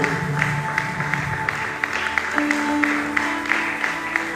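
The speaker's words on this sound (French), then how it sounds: "Acclamons Jésus pour la parole" A church congregation in Kinshasa applauds during a worship service, steady clapping from many hands filling the room with a broad, continuous patter for several seconds, no voices over it.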